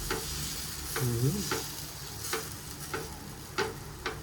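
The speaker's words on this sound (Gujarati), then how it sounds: "આ પડી રહ્યા છે ઢોસા જો ખીરું વ્હાઈટ વ્હાઈટ" Dosa batter of urad dal, rice and salt sizzles softly on a hot griddle, a steady fry hiss broken by light scraping and spreading strokes and a few faint ticks.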